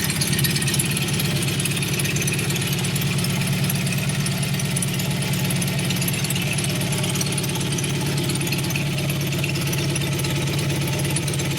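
A 1988 Honda VF750c Super Magna V4 fitted with a custom Marving exhaust idles steadily at around 1,500 rpm. The deep, even rumble runs unbroken and loud from start to finish, with no voices over it.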